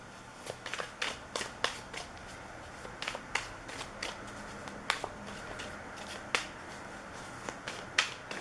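A tarot deck is shuffled by hand, with quick, crisp card snaps and riffles in irregular bursts, close up and fairly soft, with no talking.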